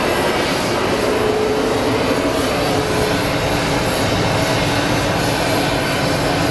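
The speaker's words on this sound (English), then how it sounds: "I think we should be getting our flight from Cabo any minute now" A jet airliner arriving from Cabo at Phoenix Sky Harbor gives a loud, steady, broadband engine roar that holds close and unbroken throughout, with no voices.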